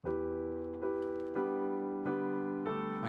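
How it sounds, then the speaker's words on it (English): Bright, sparkly 'Ultra Pretty' keyboard piano patch playing sustained chords that change about every second, clean and ringing with no talk. "the first kind of keyboard patch you're going to find is the Ultra Pretty patch"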